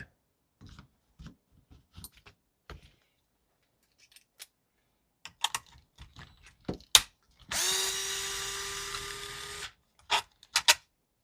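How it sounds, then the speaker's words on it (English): A power drill backs screws out of a plastic RC truck battery box on a Losi Promoto, giving a steady whirring burst of about two seconds amid scattered clicks and handling taps close by. "Just going to start pulling screws out and see what it looks like."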